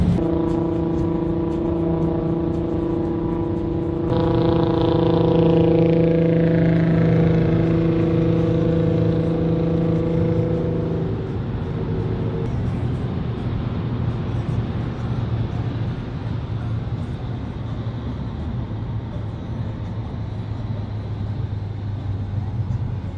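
A Volkswagen Golf variant of about 80 horsepower cruises on a German Autobahn at speed, cabin engine drone with tonal whine that shifts and fades as it accelerates, steady road roar beneath.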